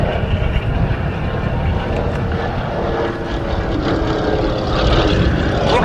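Propeller drone of a Lockheed 12A Electra Junior, an American twin-engine cabin monoplane, at a Battle of Britain commemoration in 2023; a steady, loud, continuous engine roar that holds throughout with no talk.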